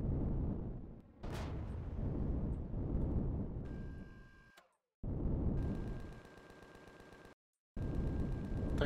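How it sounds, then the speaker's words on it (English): Explosions and rapid weapon fire from the Empyrion: Galactic Survival space game, heard amid wreckage and salvage: loud, dense bursts that cut out suddenly twice, followed by rattling, repetitive mechanical crackle near the end, with no speech. "I think that explosion was another."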